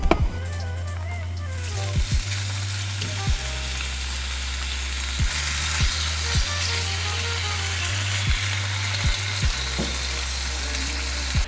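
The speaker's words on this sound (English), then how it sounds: "Add just a little bit of oil to the pan here" Meat fries in a skillet with a little oil, Korean barbecue style, giving a continuous close sizzle with occasional sharp spatters and clicks over a low steady hum that lasts throughout.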